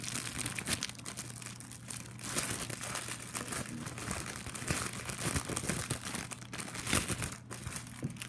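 A package of printed cross-stitch canvas kits is torn open by hand, with sustained crinkling and crumpling of plastic wrapping that comes close to the microphone.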